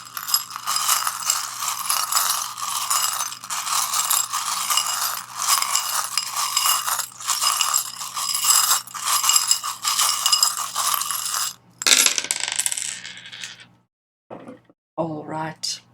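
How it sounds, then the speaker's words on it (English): Small tarot charms are shuffled, giving a dense, continuous rattling clatter for about twelve seconds, then a short gap followed by a few brief bursts of jingling. "I'm now going to shuffle the charms"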